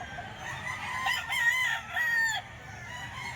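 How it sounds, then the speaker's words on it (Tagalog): A rooster crows once, fairly close, a drawn-out strained call lasting about a second and a half over a low farmyard background. "Ito yung mga manok naman ni Busapon."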